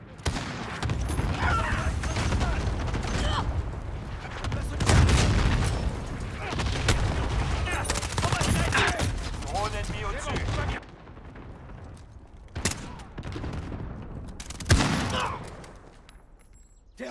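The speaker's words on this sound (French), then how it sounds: "Une frappe à dispersion ennemie." Enemy cluster strike explosions and gunfire in Call of Duty: Modern Warfare, with heavy booms and rapid shots filling the scene, dense and loud, easing off partway through before a few more blasts, while voices call out over the combat.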